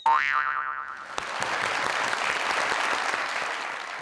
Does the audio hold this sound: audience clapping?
yes